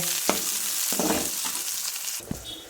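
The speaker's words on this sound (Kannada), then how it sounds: "ಈರುಳ್ಳಿ ಚೆನ್ನಾಗಿ ಫ್ರೈ ಆಗ್ತಾ ಇದೆ." Onions frying in a pan, a continuous soft sizzle with a few sharper crackles and stirring scrapes, close and fairly quiet, with no voices.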